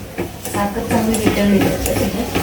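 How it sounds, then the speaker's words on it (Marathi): Sugar stirred into a milk and ghee mixture for shankarpali, a steady swish and scrape of a spoon in a pan with a low hum beneath it. "आता हे मिश्रण आहे आपण चांगल्या प्रकारे ढवळून घेऊया"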